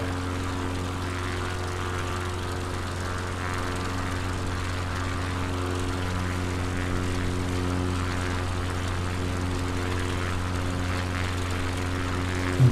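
Steady propeller aircraft engine drone in Microsoft Flight Simulator 2020, a bush plane over Patagonia, running continuously and fairly loud with a constant hum that swells slightly in the second half, no voices.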